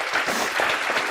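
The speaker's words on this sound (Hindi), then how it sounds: "चलो एक बार जोरदार तालियां वापस से अपने लिए" Brief burst of audience applause for themselves during a CA Inter law lecture, dense clapping over about a second with no talk.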